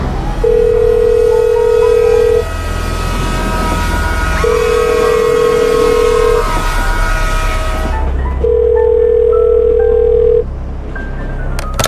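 A telephone rings on a call to the police department in a tense radio drama: three long steady electronic tones, evenly spaced and fairly loud, over a low rumbling hum that drops away near the end.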